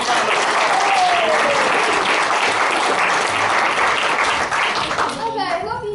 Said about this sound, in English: Give Dylan a big round of applause.